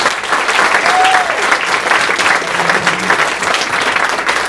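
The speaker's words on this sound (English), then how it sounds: "the campaign people, deserve another huge round of applause" A large audience at a political rally applauds campaign staff in sustained, dense clapping with scattered cheers, steady and loud throughout, with faint voices mixed in.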